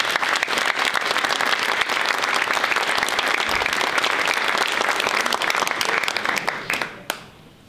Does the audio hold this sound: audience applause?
yes